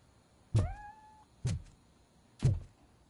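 A cat meows once in the video game RoboCop: Rogue City, a short close meow with two dull thumps following it, quiet background hum.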